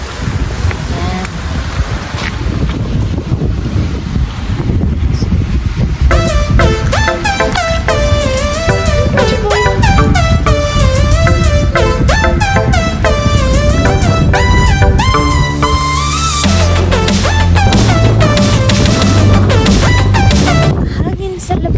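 Strong wind buffets the microphone outdoors, a constant loud roar of gusts, while a melodic music track plays over it for most of the stretch.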